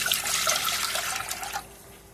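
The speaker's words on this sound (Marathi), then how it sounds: "त्याच्यामध्ये पाणी पूर्ण एक कटोरी पाणी टाकून घ्यायचं" A full bowl of water pours into a cooking pot in one splashing gush that lasts about a second and a half, then cuts off, leaving a faint background.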